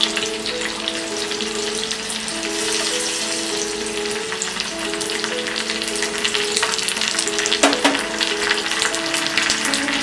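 Green chillies and curry leaves frying in hot oil for a sabudana chivda snack, a steady loud crackling sizzle close by with bursts of popping and a faint background tone, no voices.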